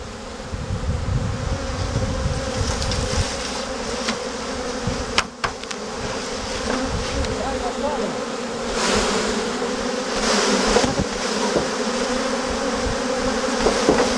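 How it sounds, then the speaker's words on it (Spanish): A large swarm of honey bees with a new queen makes a dense, continuous buzzing drone that fills the whole clip. Occasional handling knocks are heard close up. "Es un enjambre estupendo."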